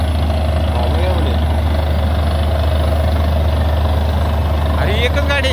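A borewell drilling truck's heavy engine idles with a constant deep rumble close by, steady throughout, with a faint voice briefly audible near the end.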